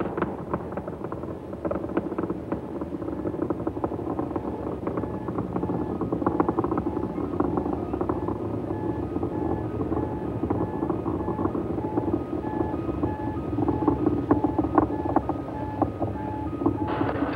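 Space Shuttle Atlantis's three main engines roaring through launch ascent, a steady, dense, unbroken rumble heard from a distance with no voices.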